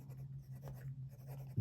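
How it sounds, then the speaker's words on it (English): Hongdian D5X fountain pen with a number 6 steel extra fine nib writing on Clairefontaine 90 gsm paper, a soft close scratching of strokes under a low steady hum, quiet and alone. "let's do a writing sample now, and I have my traditional Clairefontaine 90 GSM paper here"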